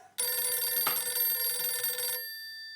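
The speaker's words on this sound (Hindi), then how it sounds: "दया का फोन" A telephone rings loudly and steadily for about two seconds, a bright, buzzy bell tone alone in a quiet room, then cuts off, leaving a faint fading hum.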